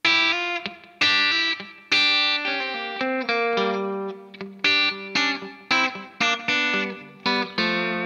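An electric guitar plays country-style double stops slowly in G, with clearly separated plucked two-note chords ringing out one after another, close and loud, with no talking.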